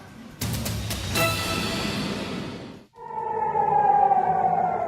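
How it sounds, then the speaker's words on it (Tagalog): An air raid siren in Tel Aviv, Israel, warning of an attack, wails loudly, dipping briefly before rising again in a sustained, steady tone with a busy, noisy background. "Nabalot ng tunog ng sirena ang Tel Aviv sa Israel, hudyat na inaatake ang bansa."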